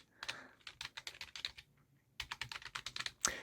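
Typing on a Logitech K375s, a budget keyboard with tactile keys: a fast run of crisp key clicks, pausing briefly near the middle before resuming, close and clear with no voice.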